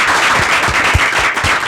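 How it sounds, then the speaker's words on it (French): A studio audience claps loudly for Mali on an independence-day TV special, a dense close burst of applause lasting under two seconds with no talk. "On applaudit très très fort pour le Mali."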